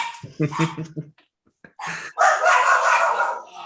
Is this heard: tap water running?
no